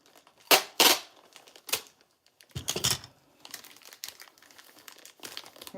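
A poly mailer package has its flap folded over, giving sharp plastic crinkles and crumples in bursts with quieter rustling between them, close and fairly soft.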